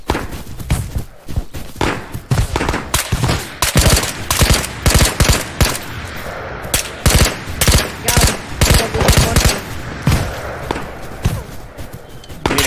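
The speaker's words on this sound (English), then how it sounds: "I'm getting shot at." Rapid automatic gunfire in the shooter game Ghosts of Tabor, loud, close bursts of sharp cracks in quick irregular strings, with brief pauses between volleys and no talking.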